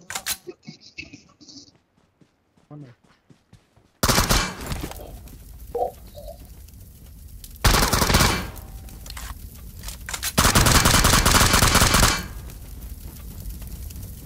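Gunfire in the battle royale game PUBG, with bursts of rapid automatic shots and single cracks, loud and dense in several long stretches, with quieter gaps and faint talk.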